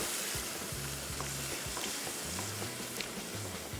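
Mutton stock is poured into a pot of sizzling mutton for bhuna gosht, and a dense, steady sizzle and bubbling fills the short stretch at a moderate, even level with no speech.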